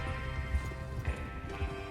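Horse hooves clip-clop at a steady trot in Red Dead Redemption 2, close and fairly loud over a constant ambient game bed, with a few heavier thuds standing out.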